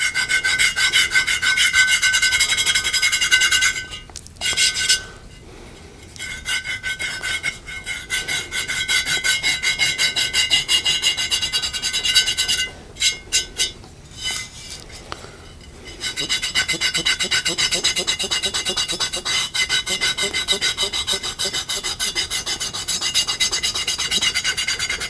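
Steady abrasive scrubbing as a rust eraser is worked over heavy rust on a flat-bottom Birmingham Stove and Range cast iron pot, a continuous close gritty rasp broken by two short pauses.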